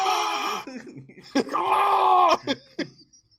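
A voice imitates the wrestler Bray Wyatt screaming in the mask, giving long strained groaning wails broken by short sharp gasps and grunts, close and loud.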